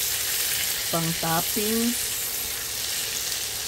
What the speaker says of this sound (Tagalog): Diyan po gigisa ko yung hipon.